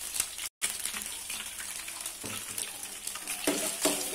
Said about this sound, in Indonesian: Saat menumis bumbu, sambil kita aduk-aduk terus ya teman-teman, kita goreng sampai bumbunya benar-benar layu dan wangi.